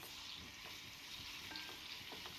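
Three thinly sliced onions fry in plenty of hot oil for a mutton and amaranth-leaf curry, giving a close, steady sizzle and crackle with faint stirring scrapes throughout.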